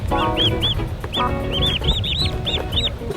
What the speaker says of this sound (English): I'm not sure if these are chickens or turkeys